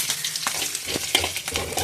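Tempering spices crackle and sizzle in hot oil for a seasoning on a cucumber chutney, a close, busy spitting hiss throughout.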